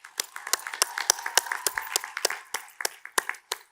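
Scattered applause from a modest crowd at a university commencement ceremony, individual claps distinct and irregular, fairly quiet and thinning out toward the end.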